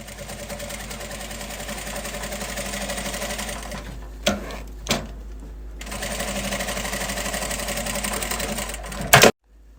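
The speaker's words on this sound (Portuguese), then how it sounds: "vincar e passar uma costurinha de pesponto" A sewing machine topstitches a zippered double pencil case in a steady, close, rapid whirr. It breaks briefly in the middle with a couple of clicks, resumes, and ends on a sharp clack.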